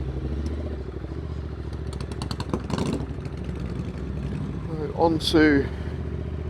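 Motorcycle ridden along Tasmanian roads, a steady low engine drone with wind rumble running throughout, while someone talks over it near the end.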